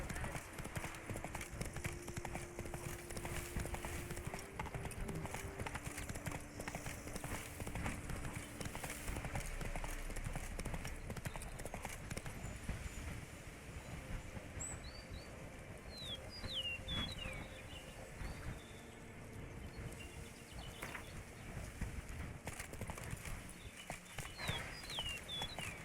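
Horse hooves clip-clop steadily at a brisk trot in The Witcher 3 video game, a continuous rhythmic beat under a bed of ambient outdoor noise with faint bird chirps.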